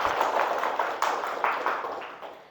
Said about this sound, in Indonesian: Tepuk tangan dulu biar kita semua semangat.